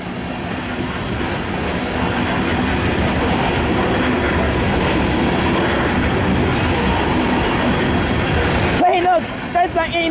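A westbound CSX loaded coal train with helper locomotives rumbles past steadily and loudly, a dense continuous roar of wheels and cars, ending in a brief sharper squeal near the close.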